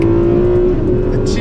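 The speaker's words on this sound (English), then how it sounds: "the tune of that V12 engine" Ferrari 12 Cilindri V12 engine pulling hard on a road drive, loud and close with a strong sustained tone, and a voice briefly heard over it.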